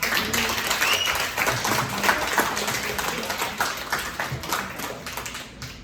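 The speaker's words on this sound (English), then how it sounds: "And we need applause for that." Applause from a celebration crowd honouring mothers at a birth-support foundation event, a lively continuous clapping from many people with sharp individual claps scattered through, fairly close and steady for several seconds.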